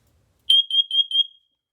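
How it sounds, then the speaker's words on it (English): A Siterwell smoke alarm under test gives a loud, piercing electronic beep, a short series of four pulses close by, then silence, with no voices. "just went ahead and tested the Siterwell smoke alarm up there"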